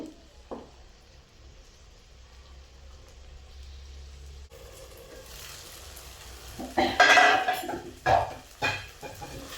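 Tomatoes cooking in a pan for a potato and tomato curry, a soft sizzle that swells into louder bursts of frying and stirring scrapes toward the end, with no talk.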